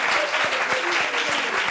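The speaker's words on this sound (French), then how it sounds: "il faut applaudir." A burst of dense applause, many hands clapping steadily together, loud and sustained throughout.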